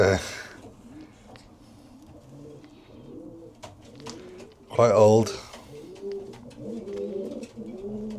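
Racing pigeons coo in a loft on an allotment, a steady run of low, throaty, rolling calls close by, with a louder burst midway, while someone talks over them.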